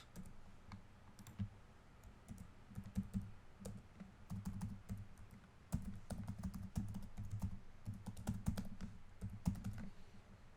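Quick bursts of computer keyboard typing while a URL is entered, soft close clicks in irregular runs with short pauses, quiet and alone.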